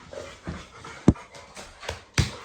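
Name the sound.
dog panting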